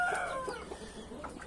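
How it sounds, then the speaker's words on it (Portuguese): Hens in a laying coop cluck and murmur close by, with a few rising calls in quick succession at moderate volume and no talk over them. "As galinhas estão botando bem aqui de novo, galera."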